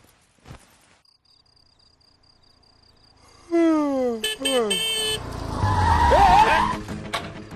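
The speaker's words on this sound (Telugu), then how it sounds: "మరి మీరెందుకు అలా హార్న్ కొట్టారు?" A car horn blares at night in a quiet residential colony, with a sharp tonal honk and harsh engine noise, then rising voices and a whistle-like tone.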